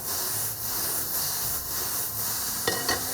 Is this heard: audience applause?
no